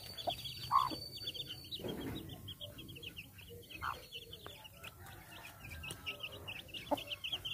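Chickens cluck softly and intermittently on a farm, set loose on the ground for the first time, with birds chirping and faint background noise throughout; a voice murmurs briefly.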